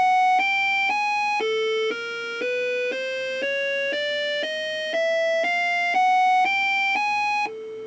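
Amiga A1200 computer playing a run of steady electronic test tones through left and right speakers, about fifteen even beeps stepping up and down in pitch, loud and close with no talking.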